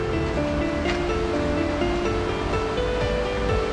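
River water rushing and splashing in a steady, broadband wash, close and continuous with no voices, at an outdoor river on a safari tour in Bel Ombre.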